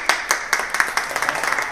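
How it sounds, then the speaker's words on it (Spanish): A small class of students claps for their teacher in a workshop setting, giving sparse, uneven hand claps that build into a light, scattered round of applause close by. "Un aplauso para el profesor Pasari."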